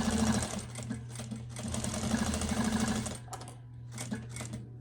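A sewing machine stitches the front of a quilted iPad holder pouch with a steady, fast mechanical whirr and rapid needle chatter, close and continuous, then slowing into short intermittent bursts near the end.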